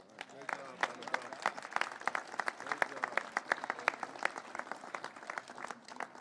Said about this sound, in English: can we give another round of applause for Annabelle, both for participating